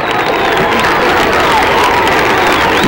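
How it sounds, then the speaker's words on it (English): Outdoor crowd at a 1978 summer festival applauding and cheering, a steady dense wash of clapping and voices, loud and continuous throughout. "great big round of applause, ladies and gentlemen."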